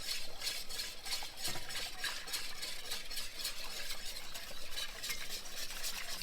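Whisk beating milk and half and half in a pot to smooth out lumps of roux, a quick rhythmic scraping and sloshing repeated steadily, close and fairly quiet.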